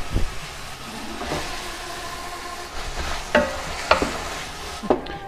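Carrots, peas and capsicum stir-fried in a pan, with soft sizzling under a few sharp clanks and scrapes of a spoon against the pan at irregular intervals.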